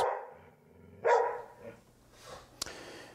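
Faint, distant dog barks come in a few separate bursts, sharp and irregular, against an otherwise quiet background.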